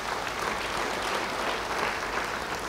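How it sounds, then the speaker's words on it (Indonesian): Congregation applause during a church sermon, a thick continuous roar of many people clapping at once, even in level and fairly loud, with no talking over it. "Yang mau beri tepuk tangan bagi dia."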